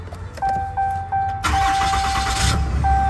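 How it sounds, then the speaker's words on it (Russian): A Dodge Ram 3500 HD heavy-duty pickup engine cranks after a few warning chimes, catches with a loud roar, then settles into a steady idle close by, with chimes sounding again near the end. "если мы заведем двигатель"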